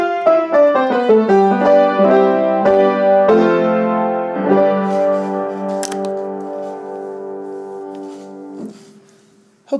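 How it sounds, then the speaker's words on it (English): A Mixolydian scale played note by note on a sustained, echoing instrument, rising in a quick even run before a few longer held tones ring out and fade near the end. "So the Mixolydian scale sounds like this."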